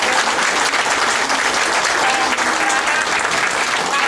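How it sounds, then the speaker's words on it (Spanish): Audience applauding at a public meeting in Mexico, sustained loud, dense clapping from a crowd with a few faint voices mixed in. "También se merece un aplauso porque se la pasa en México."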